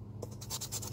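A coin scratches a Florida lottery scratch card in quick, rough strokes, a close, dry scraping rasp repeating several times after a brief quiet start.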